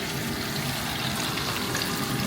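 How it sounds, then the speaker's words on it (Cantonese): Fish deep-frying in a pot of hot oil gives a steady, dense bubbling crackle at moderate level, continuous with no voices. "炸魚"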